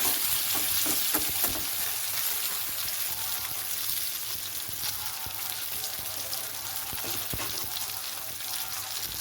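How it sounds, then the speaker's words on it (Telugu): Eggplants and onions frying in a pan for Guntur-style stuffed eggplant curry, sizzling steadily and close with occasional stirring clatter, no talk. "ఉల్లిపాయలు ఈ విధంగా ఫ్రై అయిన తర్వాత వేయించుకున్న వంకాయలు బాండీలో వేసుకోవాలి"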